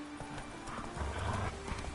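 Roach the horse gallops in a video game, hooves clip-clopping in a steady rapid rhythm with a whinny, loud and close over game ambience.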